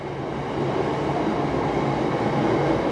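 A long freight train loaded with cement rolls past close by, a steady, loud rumble of wagons and rail noise with faint clickety-clack, continuous for the whole stretch.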